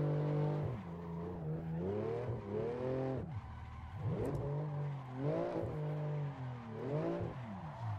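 A near-stock BMW M3 Competition G80 drifts with its engine rising and falling through repeated revs, with gear changes and tire scrub. It sounds close, loud and continuous, with no talk.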